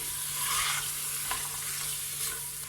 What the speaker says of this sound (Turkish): Bunu da diğer malzemelerimle bir karıştıracağım.